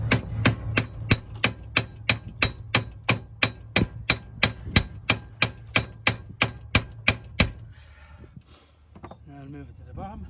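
A hammer taps metal on the front wheel bearing of a 2008–2015 Toyota Avensis T270 2.0 D4D, about twenty sharp, ringing strikes in a steady quick rhythm, close and loud, then stopping as a voice speaks.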